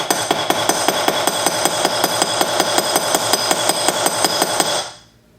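A hammer strikes a rivet head on a hard surface, in rapid, even taps about four per second, close and crisp, while shaping an 18K gold rivet on an oxidized sterling silver cuff bracelet.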